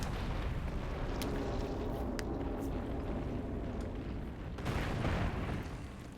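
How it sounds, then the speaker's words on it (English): A missile fired in Metroid Prime Remastered lands in a continuous roaring, rumbling blast, with a few sharp cracks and a louder surge near the end. "But then you just fire missile."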